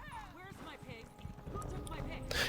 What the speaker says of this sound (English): Then we'll get back on the horse quickly.